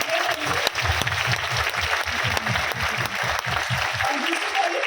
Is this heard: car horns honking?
no